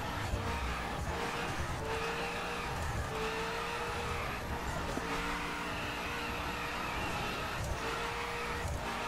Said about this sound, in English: Spinning wheels, drifting all over the place.